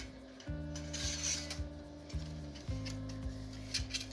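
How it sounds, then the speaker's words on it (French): Metal parts of an old rectangular sponge-cake mold scrape, slide and click together as it is assembled, in a series of short grinding movements, close and fairly quiet. "Ce que vous entendez, c'est l'assemblage du moule."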